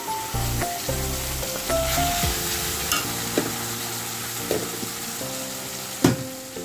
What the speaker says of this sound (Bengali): এবার আমি পেস্ট করা মশলাটা দিয়ে দিলাম